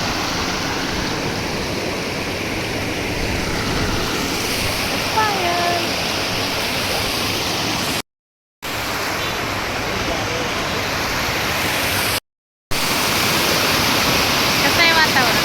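Rushing water pours over a dam in a loud, steady, close roar that fills the whole stretch, broken by two short silent gaps, with faint voices now and then beneath the torrent.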